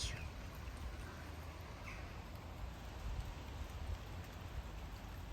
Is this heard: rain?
yes